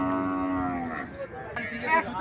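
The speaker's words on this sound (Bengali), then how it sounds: "এখানে একটা গাভী দেখা যাচ্ছে" A healthy cow at a cattle market gives a long, close, loud moo that slides downward, followed by brief crowd voices and background noise.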